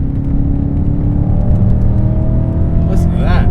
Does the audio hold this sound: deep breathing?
no